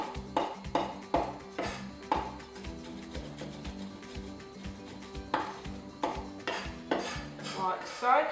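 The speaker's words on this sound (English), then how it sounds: "I'm going to be using my moon knife just to give them a bit of a chop." Rosemary leaves chopped with a moon knife on a board, bursts of quick rocking knocks and clacks in two clusters separated by a quieter stretch, with background music underneath.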